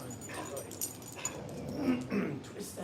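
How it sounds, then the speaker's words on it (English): A dog during a group yoga session gives a few short whimpers and yips, moderately loud, mixed with background voices and room noise. "Oh, here comes another dog."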